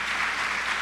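Congregation applauding during a church communion service, a dense, steady wash of clapping from many hands filling the space, brief and fairly loud without any voices.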